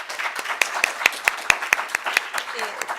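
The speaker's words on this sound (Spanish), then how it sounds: "nuevamente un fuerte aplauso para las tres" Applause for three panelists at a sports-ecosystem expert panel in Panama, with sharp individual claps standing out in a loose, moderate rhythm over a wash of crowd noise and faint voices, lasting a few seconds.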